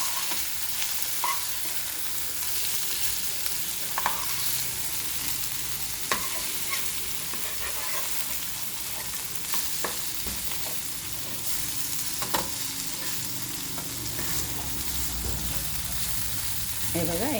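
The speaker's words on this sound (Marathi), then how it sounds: "डीप फ्राय नाही करते, शॅलो फ्राय करते त्याला." Rava-coated prawns shallow frying in a little oil in a pan over low heat, giving a loud, steady, close sizzle throughout with occasional stirring clicks.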